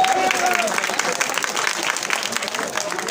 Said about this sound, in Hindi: इनके असलम साहब के लिए जोरदार तालियां बजाइए